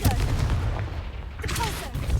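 Confringo blasting spell fired in Hogwarts Legacy, a loud burst of booming, gunfire-like impacts over a dense low rumble of game sound, with a second crackling blast near the end.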